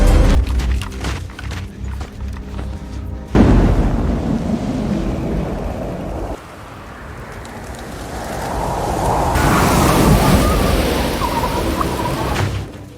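A snowstorm roars through a forest scene in a war film: rumbling, gusting wind that shifts in intensity with abrupt cuts, loud and continuous, with no speech.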